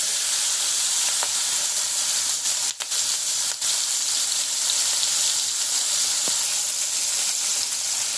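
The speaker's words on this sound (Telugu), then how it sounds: "ఇప్పుడు ఆ మిగిలిన ఆయిల్లోనే ఇప్పుడు మనం ఆనియన్స్ చిల్లీస్ వేస్తున్నాం" Onions and green chillies hit leftover hot oil in a pan, a loud, steady sizzle and crackle of frying that runs continuously throughout, with a couple of brief stirring knocks and no talking.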